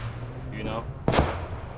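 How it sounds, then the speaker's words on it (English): A single sharp firework bang goes off at a distance during an Independence Day weekend, a brief burst standing out over steady low background noise. "I'm glad I mentioned the disclaimer of the fireworks in the background"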